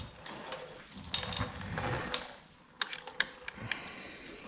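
A 10mm wrench loosening the negative battery terminal bolt on a Harley-Davidson M8 Softail gives close, sharp metallic clicks and ratcheting taps in an irregular sequence, with light handling rattles between them.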